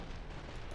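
A plasma grenade goes off in Fallout: New Vegas, a brief, dense blast of noise lasting under a second, rumbling and washing across without any clear separate hits.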